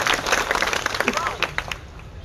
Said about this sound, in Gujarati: ડાયાભાઈ ગજેરા, તાળીઓથી વધાવો.